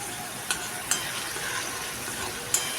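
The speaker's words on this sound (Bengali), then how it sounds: "নাড়তে নাড়তে আধ ভাজা করে নিলেই হবে।" Something stir-fries in a pan with a constant hissing sizzle, broken by a few sharp spatula clinks against the pan; no one talks.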